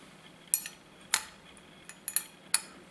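Hand scraping of a machine tool's X-axis way: five sharp, separate scrape strokes land at irregular intervals, each a bright metallic rasp over a quiet background, with no talking.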